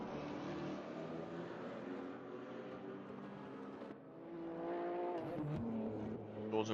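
GT3 race cars in a racing game crossing the finish line at Imola: sustained engine drone with shifting revs, a brief dip and then a louder, higher-pitched pass near the end.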